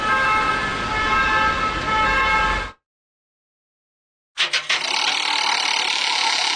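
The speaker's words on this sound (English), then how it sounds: "Ambulance." An ambulance siren blares loud and close, a harsh buzzing tone that cuts off suddenly, followed after a pause by a burst of broad noise.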